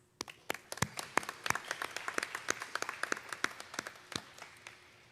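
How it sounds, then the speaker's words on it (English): Scattered applause from a small audience at a middle school eighth grade moving-up ceremony, individual claps distinct and irregular, fairly quiet and steady throughout. "please join me in giving one more special round of applause to both those students who gave speeches and also to our 8th grade promoting class"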